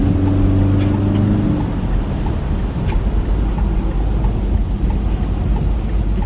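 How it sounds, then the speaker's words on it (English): Heavy New York City street traffic rumbles loud and steady, a dense low roar of engines with a brief humming tone at the start and no talk. "The traffic is crazy."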